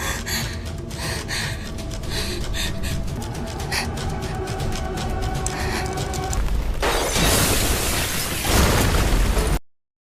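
A loud explosion bursts out in a movie scene, preceded by tense gasps and breathy sounds, then a broad roaring blast that swells near the end before cutting off abruptly.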